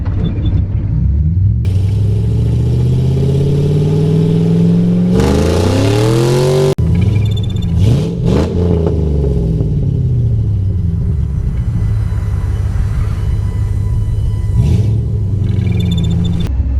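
A car engine with an oxygen sensor fault and random multiple-cylinder misfires runs while driving, giving a steady, loud, rumbling drone with rising and falling revs and a few uneven surges.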